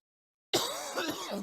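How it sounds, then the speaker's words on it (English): A single rough, throaty cough breaks out close by after a moment of silence. "what's making you cough this time?"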